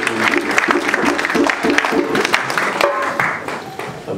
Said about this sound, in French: On acclame le Seigneur pour recevoir les mains bénies.